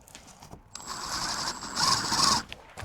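A drill bores a pilot hole in drywall, giving a close, steady whirring grind for about two seconds that swells slightly near the end, with no talking.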